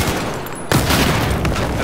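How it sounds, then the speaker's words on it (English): Grenade explosions in the Battlefield 4 video game at Hainan Resort, a dense, loud rumbling blast with a sharp new burst partway through, filling the whole moment. "That's a lot of grenades."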